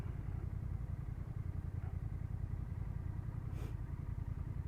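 A 2024 Honda Rebel 1100 motorcycle on the move, its engine a steady, low, throbbing rumble at moderate level with wind noise and a brief hiss near the end.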